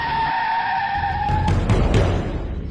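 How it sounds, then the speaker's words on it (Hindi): Hard braking skid from a tractor: a loud tyre-squeal tone holds steady, then breaks into rough scraping bursts near the end. "वह उस जगह पहुंचते ही अपने ट्रैक्टर में जोर से ब्रेक मारता है"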